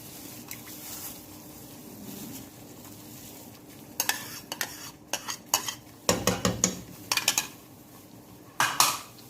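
Yogurt is stirred into masala in a pot, with a quiet sizzle that gives way to a burst of clattering spoon-on-pot scrapes and knocks, coming in clusters toward the end.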